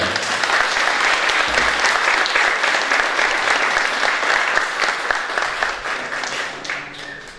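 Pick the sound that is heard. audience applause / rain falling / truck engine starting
audience applause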